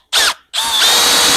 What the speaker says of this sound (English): this is when you are really glad you have a nice drill